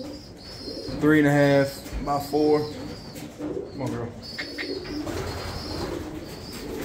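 Racing pigeons coo in a finished breeding loft with wire floors, their soft throaty calls recurring close by while someone talks over them.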